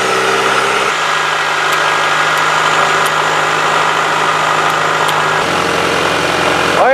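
A car engine idles steadily throughout a PCV valve vacuum test, a continuous low rumble with a brief shift in tone near the start and again near the end, with no talking.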